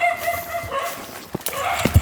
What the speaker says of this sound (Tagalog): wala kami nadaan ng ganito karaming aso kanina